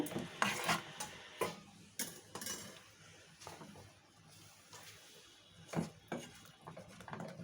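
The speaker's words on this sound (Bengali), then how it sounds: "এবার আমি পেঁপেগুলো এর মধ্যে দিয়ে দেব। দিয়ে পেঁপেগুলো হালকা সেদ্ধ করে নিয়েছি, দিয়ে নাড়ব।" Boiled papaya is stirred in a pan with mustard seeds and dried chilli for an oil-free chutney, giving quiet, irregular scrapes and clinks of utensil against the pan, with a few sharper knocks, close by and without talk.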